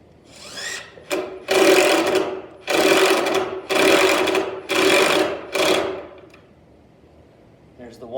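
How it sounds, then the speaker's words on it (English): A power driver drives a screw through a cabinet door hinge in five loud, whirring bursts of about a second each, separated by brief pauses, then goes quiet with faint handling noise. "I'm going to put a screw through this hole right here."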